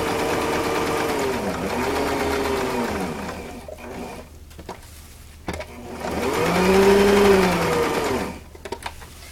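A sewing machine stitches a fabric dog toy, running in two long steady buzzing bursts separated by brief pauses and short stop-start stitches, close and loud with no voices.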